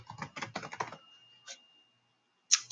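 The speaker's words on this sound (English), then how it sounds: "I'm going to type my name in" Typing a name on a computer keyboard: a quick run of close, crisp key taps for about a second, then a single tap and a louder final keystroke after a short pause.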